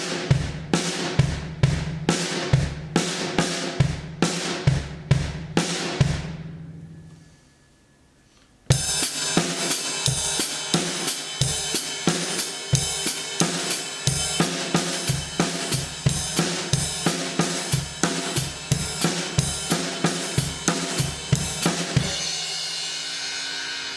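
A drum kit plays an eighth-note paradiddle independence exercise shifted back one beat, with steady crisp hits. The pattern stops, a short silence follows, then it resumes and continues close and even.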